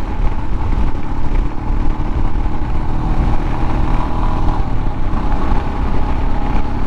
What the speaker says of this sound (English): What a great motorcycle.